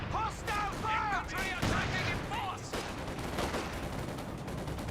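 Gunfire and mortar blasts from the Company of Heroes 2 strategy game, with an M15 halftrack firing, sound as dense, continuous battle noise, while a caster's voice talks over it.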